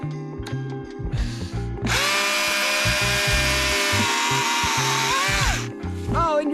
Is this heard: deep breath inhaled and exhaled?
no